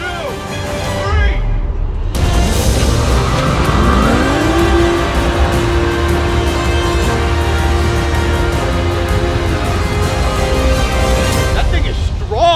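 A car engine revs hard and holds a steady drone while being pulled against, loud and close, with a brief rising whine, alongside a motorized longboard pulling contest.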